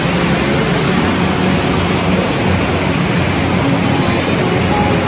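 A steady, loud roar of an underground cave waterfall fills the space without pause, broad and hissing, echoing in an enclosed rock chamber.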